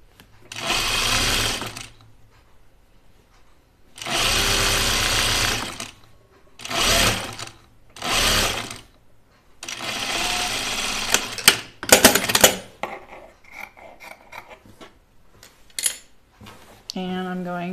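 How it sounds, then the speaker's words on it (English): A sewing machine stitches a 3/8 inch button band seam on a pinafore or T-shirt, running in several loud close bursts of steady whirring separated by pauses, with handling clatter of fabric and tools toward the end. "So I'm gonna sew my button band."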